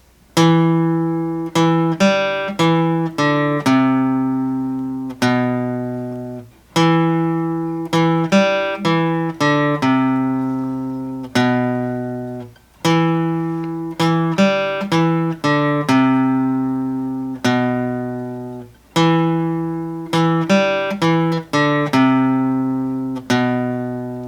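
A guitar picks a repeating riff of plucked open-string notes, each ringing out and decaying, with clear sustained harmonics and no voices.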